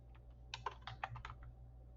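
Quiet, close typing on a computer keyboard: a short burst of keystrokes in the middle, with isolated taps before and after over a low steady hum and no voices.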